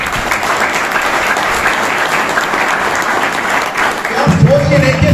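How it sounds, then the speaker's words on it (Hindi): A seminar audience in a hall claps steadily in loud, dense applause that runs throughout, with a voice starting to speak over it near the end. "एक बार इस सिस्टम के लिए तालियां बजाते सर।"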